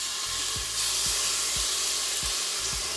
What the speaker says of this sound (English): You're going to put in enough tomato passata to cover the base.